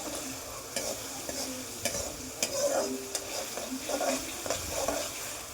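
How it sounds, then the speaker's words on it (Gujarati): Steady sizzle of green chillies, ginger, garlic and cinnamon in hot oil with occasional stirring scrapes and small pops, close up and continuous. "લીલા મરચાં, આદુ, લસણ અને તજ નાખીને વઘારે કરી દીધો છે મેં તેલ ગરમ કરીને"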